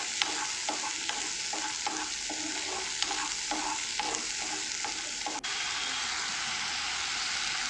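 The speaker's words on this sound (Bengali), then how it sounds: "দেখুন কত সুন্দরভাবে মশলাটা কষানো হচ্ছে, আর একদম তেলগুলো না দেখুন উঠে এসেছে" Masala spices sizzle in oil in a pan, a steady close hiss broken by rhythmic stirring scrapes for about five seconds, then the frying carries on alone.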